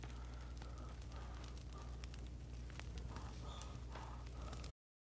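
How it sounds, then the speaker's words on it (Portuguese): A burning character in the survival game The Forest gives off a steady, dense crackle and hiss of fire that runs continuously, with scattered sharper pops, and cuts off abruptly near the end. "o bot tá pegando fogo"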